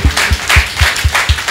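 An audience applauding at a library event in Porto Novo: steady, fairly loud clapping with a rhythmic, pulsing beat, close by and without talk over it.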